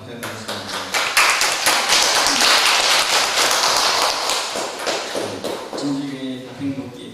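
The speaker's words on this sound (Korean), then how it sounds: "박수 한번 부탁드리겠습니다" A church service audience claps together, loud, dense applause sustained through the stretch, with a voice speaking near the end as it fades.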